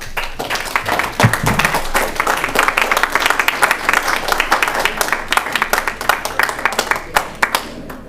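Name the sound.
round of applause at city council meeting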